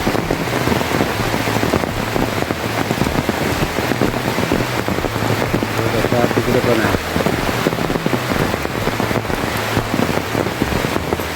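Heavy monsoon rain falls without pause on muddy paddy fields where rice is being transplanted in the Konkan, a loud continuous wash of drops that drowns out any other sound.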